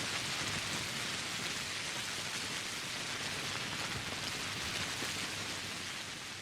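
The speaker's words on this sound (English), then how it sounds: "the rain is playing loud this one time" Heavy, steady rain from the video game Pathologic hisses continuously without a break, loud and even, with no voices over it.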